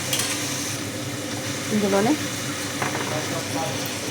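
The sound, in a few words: stirring onions with salt frying in oil for egg curry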